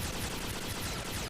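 Dense gunfire from the Robotech: Masters anime episode, a loud continuous burst of rapid shots filling the moment before cutting off abruptly.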